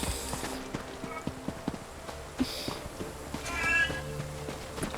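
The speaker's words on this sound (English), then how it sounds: "Marigold is a very chatty cat." A chatty cat in the Elder Scrolls Online game meows several times at moderate volume, mixed with soft footstep-like clops and faint game ambience.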